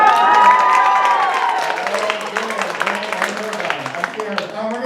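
An audience at a stand-up comedy show bursts into loud applause and cheering, clapping dense and close over a host's voice, gradually thinning toward scattered claps.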